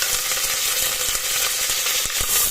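Green chilies and curry leaves frying in hot oil with popped mustard seeds, a dense steady sizzle with a few sharper crackles and pops, close and loud with no talking.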